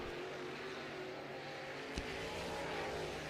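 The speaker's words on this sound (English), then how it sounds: "Matthew Smith in the 7 car out of Gray, Kentucky." A dirt late model race car running hot laps at a Lucas Oil Late Model Dirt Series event sends a steady, fairly distant engine drone across the whole stretch, with one brief sharp click near the middle.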